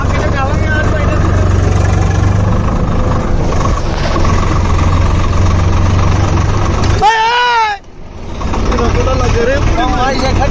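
A Swaraj tractor engine chugs in a steady, close, loud drone with a low rumbling pulse throughout, while voices talk over it and a brief dip near the end cuts the sound before it resumes.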